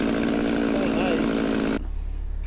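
A chainsaw runs at a high, steady buzzing pitch, loud and close, then cuts off abruptly, leaving a low rumble behind.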